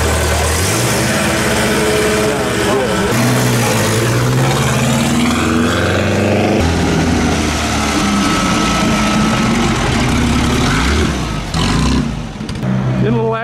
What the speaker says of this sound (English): Look at this jewel of an Aston Martin that just rolled out.